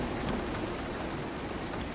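Steady rain in the video game Road 96, a dense, even hiss of falling drops across the whole stretch, fairly close and unbroken, with no voices over it.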